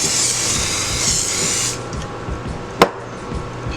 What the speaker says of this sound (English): I'm gonna go ahead and grease that with a little bit of oil just so that our banana nut bread does not stick